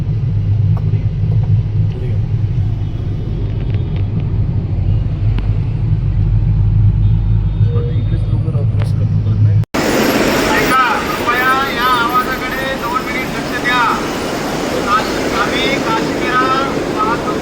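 Traffic on the Mumbai–Ahmedabad highway, a steady loud rumble of passing vehicles that continues throughout, with a voice speaking over it in the second half.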